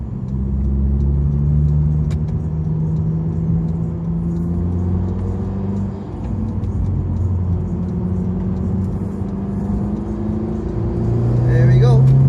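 A Honda Civic Type R FK2 on Michelin Pilot Sport 4S tyres taken quickly around a roundabout, a steady loud engine drone and road rumble filling the cabin throughout, rising slightly near the end as it pulls away.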